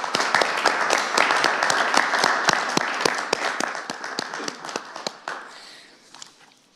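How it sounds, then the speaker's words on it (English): Audience applause at a scholarship awards night, honoring the winners: dense, sustained clapping from a sizable crowd that holds steady for several seconds, then thins out and tapers into scattered claps. "Let's give all those winners a round of applause."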